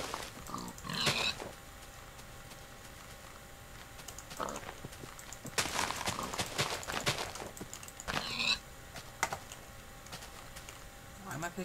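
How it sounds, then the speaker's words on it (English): Pigs oink in a Minecraft world, with several short grunting bursts spread across the scene over faint game background noise, with no voices present. "More pigs. Awesome."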